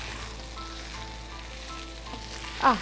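Chili powder and crushed red chili flakes fry in hot oil for an onion chicken dish, a steady soft sizzle throughout with a brief louder stir or scrape near the end.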